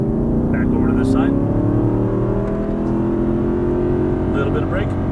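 A car's engine drones loudly and climbs steadily in pitch as it accelerates hard out of a turn, a continuous in-cabin roar with a voice talking over it.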